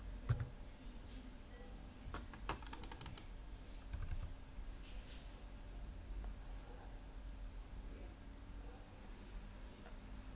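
Typing on a computer keyboard: steady runs of light plastic key clicks with a few louder taps, close and fairly quiet, with no voice.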